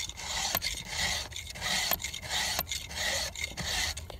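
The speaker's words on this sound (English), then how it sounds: "So I'll do a couple extra swipes on each tooth than I normally would when I'm hand filing." A hand file rasps across chainsaw chain teeth in repeated rhythmic strokes, each swipe a gritty scrape with short pauses between, close up and alone.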